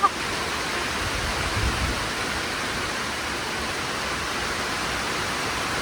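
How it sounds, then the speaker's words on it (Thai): Heavy rain falls at a Thai football stadium before a Muang Thong versus Nakhon Ratchasima match, an unbroken, rushing wash of noise close by that holds steady throughout. "นี่ฝนตกหนักสุด ๆ หนักมาก"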